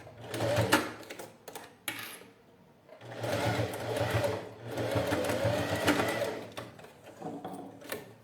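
Sewing machine stitching right along the edge of clear crystal plastic for a small zippered pouch, running in several close, steady bursts with brief pauses between them and light handling noise.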